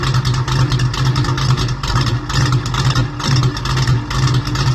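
A 1971 Camaro's small-block Chevy with a bigger-than-stock cam idles loudly up close, its lumpy, uneven lope pulsing in a steady rhythm with a raspy exhaust edge.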